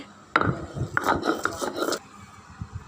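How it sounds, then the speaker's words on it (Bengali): Fried black cumin seeds are ground on a flat stone slab. A stone pestle rubs and knocks against the slab in a few short bursts of scraping and tapping, close by, and then the sound falls quiet. "এখন কালি জিরাগুলো বেটে নিব"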